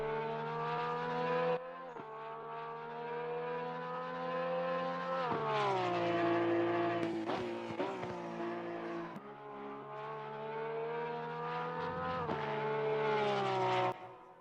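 Porsche 911 race car lapping Oulton Park in Assetto Corsa Competizione, its engine droning loud and steady, pitch climbing through the gears with sharp drops at each shift and a brief lift mid-lap.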